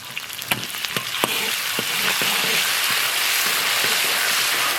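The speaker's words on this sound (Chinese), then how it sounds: "锅里重新倒一点油，油后下入葱姜蒜白辣椒花椒，来1勺辣子酱。" Scallion, ginger, garlic, chili and Sichuan peppercorns hit hot oil in a wok, setting off a steady loud sizzle and crackle with a few sharp spatula knocks early on.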